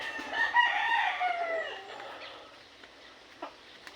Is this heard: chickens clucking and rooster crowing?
yes